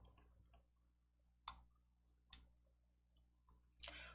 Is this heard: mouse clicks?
yes